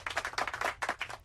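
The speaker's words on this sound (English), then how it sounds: "Watching them clap hysterically for 5 more years of war and people dying was so crazy." An audience claps hysterically in a played recording, its dense uneven bursts coming close and moderately loud with no voices over them.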